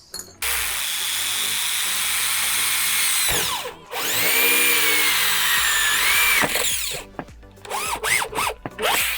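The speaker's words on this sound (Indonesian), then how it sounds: "Oke, kita langsung bor di sini guys." A 32 mm hole saw on a drill cuts a hole while a pond pre-filter chamber is being built, a loud continuous grinding whine that pauses briefly and then ends in short uneven bursts.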